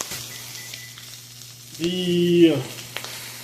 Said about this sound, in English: cook that up, let it sizzle